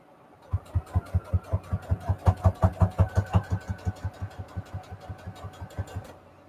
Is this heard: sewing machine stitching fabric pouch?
yes